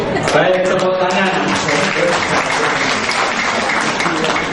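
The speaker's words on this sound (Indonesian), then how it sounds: "tepuk tangan" Applause at an Islam–Christian debate event fills the whole stretch as steady, dense clapping from a large audience, with voices talking underneath.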